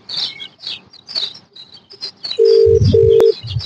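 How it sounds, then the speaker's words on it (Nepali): An unanswered outgoing phone call rings back twice as sustained electronic tones, preceded by soft scattered chirps and clicks, loud and close with no speech. "फोन गइरहेछ उठाउनु भएको होइन।"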